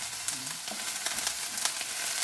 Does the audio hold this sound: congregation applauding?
no